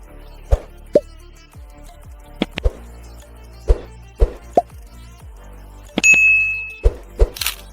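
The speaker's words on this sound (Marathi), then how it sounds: "चला आता TWSचा मेन बॉक्स ओपन करूया." A KDM Z1 true wireless earbuds retail box being opened: scattered close taps, plops and light knocks of cardboard, then a brief scraping slide as the lid lifts, with no talking.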